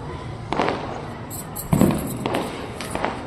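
Firecrackers burst during a Karwa Chauth celebration, with several sharp cracks and crackling pops at moderate distance, spaced irregularly across a few seconds.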